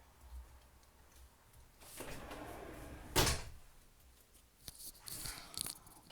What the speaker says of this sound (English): I need to close the other door.